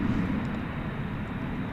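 An American Airlines Boeing 737-800 arriving at DFW Airport at night from Jacksonville, Florida, gives a steady, moderately loud engine rumble that stays even and unbroken throughout, with no talking.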